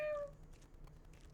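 A cat meows once in a video game, a short, clear, fairly close call that fades quickly into quiet background ambience.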